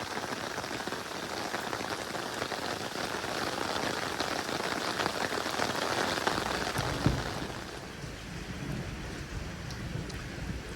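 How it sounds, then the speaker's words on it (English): Heavy rain pours steadily during a May thunderstorm in Norwich, a dense close hiss of drops striking surfaces, with a low rumble of thunder rolling in faintly partway through before the downpour eases slightly. "I've actually just come out again into the rain"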